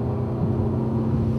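A car engine under acceleration on the Monza racetrack, heard from inside as a steady, loud, low droning rumble with a constant tone and no voices.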